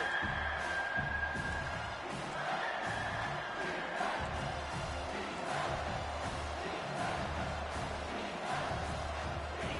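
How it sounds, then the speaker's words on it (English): Football stadium crowd at an NCAA game roaring steadily ahead of a big third down, a dense, loud wall of cheering and yelling that swells and holds throughout with scattered whoops. "The crowd elevating its energy, willing this defense to get a stop on this big 3rd down."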